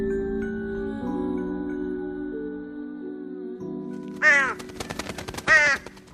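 A crow caws twice in loud, harsh bursts near the end, rising over a steady tonal background hum and music-like drone that fills the first few seconds.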